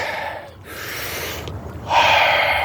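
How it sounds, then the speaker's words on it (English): A person takes deep breaths to ease frustration: a sharp inhale, a pause, then a long audible exhale, close and alone. "It's called breathing."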